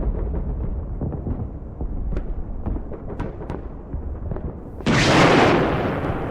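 Muffled booms and thuds from new drones striking a war zone pulse through a low rumble, followed by one sudden loud, broad blast that roars on for over a second.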